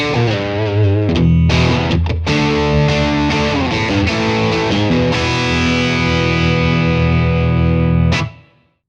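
A distorted electric guitar with a de-esser applied plays loud, saturated chords and sustained notes with a few short breaks, ringing out before cutting off at the end.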